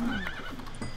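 A horse in the modded Minecraft game gives a short neigh with a wavering whinny, heard alone at moderate loudness for about a second.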